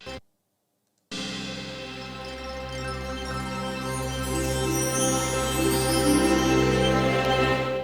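After a brief silence, dense orchestral-style game trailer music swells in and builds steadily louder, full and cinematic, with no voices.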